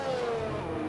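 Race car engine in an Xbox racing game at the Brazil circuit, screaming steadily high in the revs near redline in seventh gear, a loud sustained whine with no talking over it.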